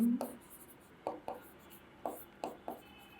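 A pen writes a chemistry reaction by hand, giving several short scratching strokes in quick clusters, close and quiet, with no voice over them.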